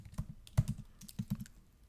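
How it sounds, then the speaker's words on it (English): Bursts of clicky computer keyboard keystrokes typed into a website search box, close and fairly quiet, in short irregular clusters with brief pauses, no voice. "I went over here to the keyword search and I just typed in"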